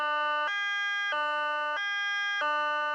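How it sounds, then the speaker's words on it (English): Placer County's European-style high-low evacuation siren alternates between two pitched tones in an even, regular rhythm, loud and steady throughout, with no voices. "Here is what Placer County's high-low siren sounds like."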